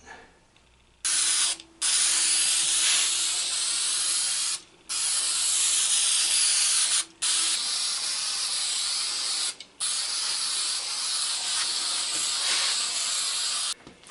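An aerosol spray can sprays paint in a series of long, loud hissing bursts, each several seconds long, broken by brief pauses, close to the listener.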